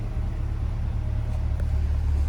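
A 2021 Chevrolet Corvette Coupe 2LT Z51 idles close by, a steady, low engine rumble, deep and continuous with no voices over it.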